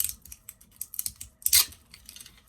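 Tyvek tape being pulled and torn for a junk journal cover made from an upcycled file folder, a string of small, close crackling and ripping bursts, ending in one louder tear, with no talking.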